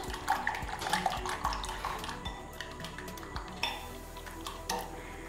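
Eggs beaten in a bowl for a potato omelette, a utensil clinking and tapping rapidly against the sides in uneven bursts, close and moderately loud, with no voices.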